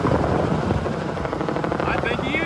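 A helicopter's rotor chop and turbine whine drone loudly and steadily from close by, filling the whole stretch with a continuous pulsing roar.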